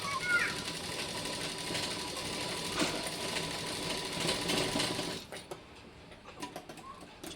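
Sewing machine stitching the shoulder seam of a baby frock, a steady dense mechanical whir running continuously for about five seconds before stopping, leaving quieter handling noises.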